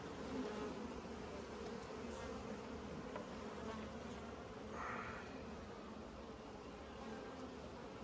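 Honeybees buzz around an open hive in a steady, dense drone, with occasional single bees passing close by. The sound is faint overall and no one speaks.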